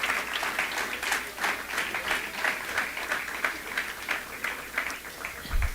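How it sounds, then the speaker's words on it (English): A hearty round of applause from teams at a women's under-19 cricket championship awards and closing ceremony, continuous, dense clapping from a sizable crowd lasting several seconds, with no speech over it. "Teams, please give your liaisons a hearty round of applause"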